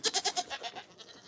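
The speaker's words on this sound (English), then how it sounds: "But the goats are going berserk." A goat bleats in a rapid, wavering series of loud, close cries that trail off and fade, on a farm with chickens and a rooster.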